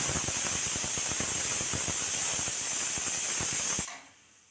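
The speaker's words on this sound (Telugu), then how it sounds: "ఐదు విజిల్స్ వచ్చాయి" A pressure cooker whistle blows a loud, high, steady hiss with a rapid fluttering pulse underneath, then cuts off abruptly near the end, while cooking horse gram.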